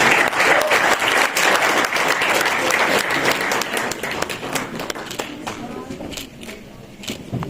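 An audience at a human rights day forum claps loudly in welcome, a dense burst of applause that gradually thins and fades toward the end.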